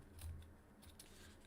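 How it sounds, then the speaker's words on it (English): Fabric is snipped with scissors a few times while trimming the corners of a homemade jar gripper, giving quiet, close, crisp cuts. "we want to cut the corners, like snip, snip, snip."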